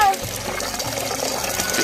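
Chopped spinach and potatoes are washed under running water, a close, steady gushing splash that fills the whole moment, with a voice briefly audible over it.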